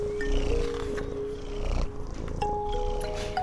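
A cat in a children's story sound effect purrs and growls with a low, rumbling, sustained tone. Scratchy textures and brief higher tonal cries sound up close throughout.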